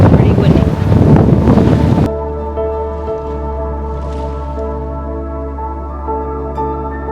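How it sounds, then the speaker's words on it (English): Strong wind on the Washington coast buffets the microphone in a loud, rough roar for a couple of seconds, then drops to a steadier low rumble with a faint hum beneath it. "It's pretty windy."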